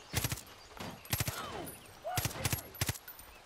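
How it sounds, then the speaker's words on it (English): Gunfire in Far Cry 5 around an RV comes in several quick clusters of sharp, loud shots, each group of two or three cracks separated by short pauses. "scare Dylan by shooting his things around his RV"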